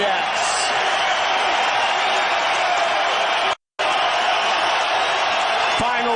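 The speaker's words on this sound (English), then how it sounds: "And the crowd reacts." An arena crowd roars through the MMA fight between Georges St-Pierre and Nick Diaz, a dense, loud, continuous wash of cheering and noise that briefly cuts out once, with a commentator's voice talking over it.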